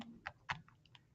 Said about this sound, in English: And you just type in your XY.